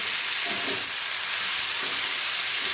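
A steady, loud sizzle of water-soaked peanuts frying in a pan, continuous hissing and crackling with no voices.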